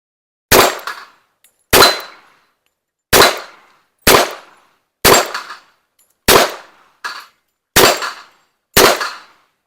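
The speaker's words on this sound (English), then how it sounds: "So, I'm just going to shoot these 6" 1911 pistol fired at steel targets: eight loud, close shots spaced about a second apart, each with a short ringing decay, one faint extra clang between shots, no speech.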